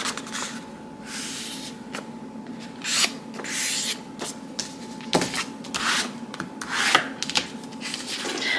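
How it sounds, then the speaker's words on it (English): Paper being folded in half for a junk journal, heard as soft close rubbing and creasing strokes with a few crisp taps and rustles, quiet and steady beneath a faint hum. "let's go ahead and fold this one in half"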